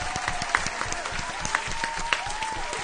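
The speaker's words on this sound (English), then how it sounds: "So that's just a round of applause for all of us who are making some great things happen." A studio crowd applauds during a radio show, with steady dense clapping throughout and a few sharper claps standing out. The clapping is moderately quiet and carries no clear talk.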